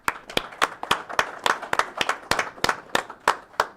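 An audience at a county board of supervisors meeting applauds youth program participants, a fairly small group of distinct, fairly close hand claps arriving in an uneven, loose rhythm for a few seconds, with no talking over it.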